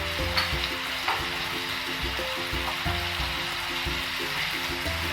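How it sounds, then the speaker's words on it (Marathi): Spices sizzle in hot oil for a chicken tomato masala, a continuous frying crackle with intermittent stirring scrapes; faint background music sits underneath, and there is no speech. "हे मसाले चांगले परतून घ्यायचे आहेत आपल्याला।"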